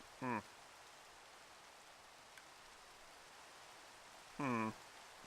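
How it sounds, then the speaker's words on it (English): Rain in the video game Minecraft plays as a steady, soft, broadband hiss throughout, interrupted twice by short, loud game sound effects, at the start and again near the end. "And I really hate this rain."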